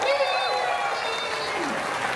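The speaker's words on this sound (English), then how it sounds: "Let's give a big round of applause for Serena Arvizu" Audience applause at Disney's Hollywood Studios 35th anniversary ceremony at Walt Disney World, a steady wash of clapping with a bright musical tone running through it, brief and fairly loud.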